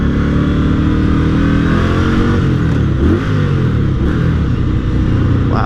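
Indian Scout 60 motorcycle accelerating on a ride, loud close engine note with rising harmonics that climb and shift through gear changes, continuous with wind rush and no talking.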